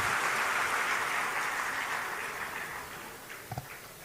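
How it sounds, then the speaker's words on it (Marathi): Crowd applause at a Shiv Sena anniversary rally speech, a dense sustained roar of clapping that slowly fades, with a couple of sharp thumps near the end. "जरा जोरात टाळ्या वाजवा."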